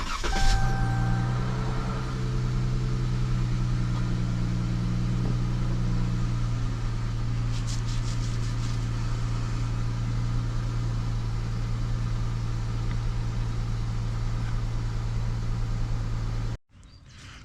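A 2021 Dodge Charger V6 engine idles after an oil change with a steady, close, low drone and faint higher whine. It runs evenly with no talk, then cuts off abruptly just before the end.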